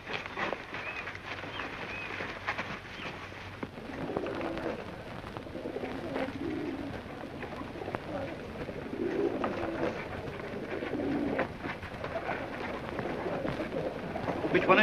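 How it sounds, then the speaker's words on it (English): Pigeons coo softly in low, rounded bursts at a moderate distance, a few calls spread across a quiet, steady background in a radio mystery drama scene. "Yes, there are pigeons here."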